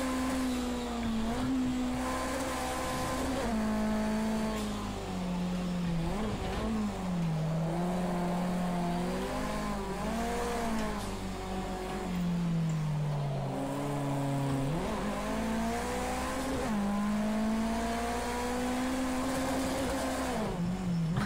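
A race car engine in Project Cars 2 drones loudly and continuously, rising and falling in pitch as it revs and shifts, with a chuffing quality like a steam train and no voices over it.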